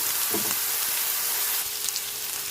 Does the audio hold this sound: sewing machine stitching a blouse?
no